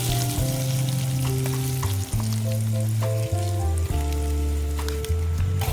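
Boiled potatoes frying in a pan with cinnamon, cloves, bay leaf and curry leaves, giving a steady loud sizzle with stirring scrapes throughout, close and alone.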